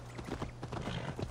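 A horse's hooves clip-clop in a steady rhythmic gait in the video game Assassin's Creed Valhalla, the repeated thuds close and moderately loud over low background game ambience.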